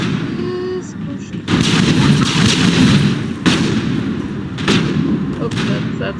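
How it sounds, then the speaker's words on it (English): Grenade blasts and heavy gunfire in the Mass Effect video game, several loud booming bursts rolling over a constant rumble of combat, close and dense. "Oh, that's a grenade."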